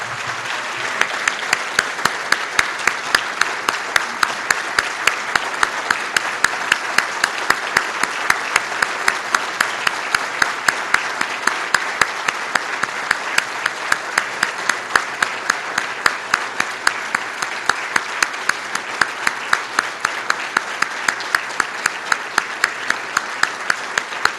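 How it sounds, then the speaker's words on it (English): A luncheon audience applauds a guest, sustained even clapping from a room full of people that holds at steady volume throughout with no talking over it. "Wow, applause well deserved, Frank."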